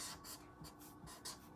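Pen or marker writing on a decorative paper placemat, soft scratchy strokes in short bursts, close and quiet, with no talking.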